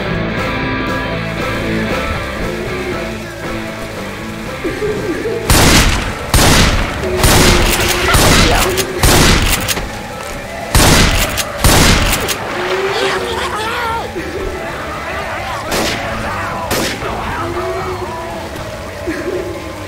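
Gunfire in the zombie shooter Left 4 Dead 2 at a construction site, with dense rapid bursts and booming shots over game music and ambience, loud and near, then quieter sporadic shots.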